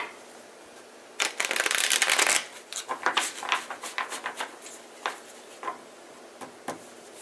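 A quick burst of tarot card shuffling, a dense riffling flutter, followed by a series of soft, scattered taps and slaps of cards being handled up close.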